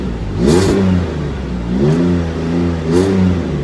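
A Pontiac G6 fitted with a MagnaFlow exhaust revs in three quick throttle blips, each a rising then falling engine roar, heard close and alone with no talk.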